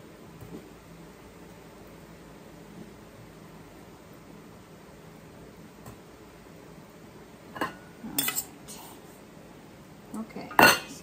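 Pots, pans and utensils clink and clatter while potatoes are boiled for a beef and potato stew in a home kitchen, mostly quiet at first with a few sharp metallic knocks and scrapes near the end.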